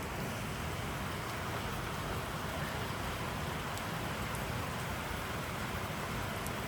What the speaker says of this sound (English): I'm in Himalayas and it's raining